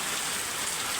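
Steady rain falls outdoors in changeable weather, a dense continuous hiss of drops on surfaces, fairly close and even throughout with no voices.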